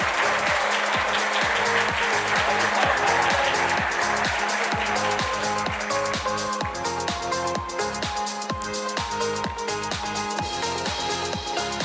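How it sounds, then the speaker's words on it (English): An audience at a university investment research competition final applauds the runner-up team, with steady clapping over a pulsing rhythmic music track that continues throughout. "give the first runner-up team another round of applause"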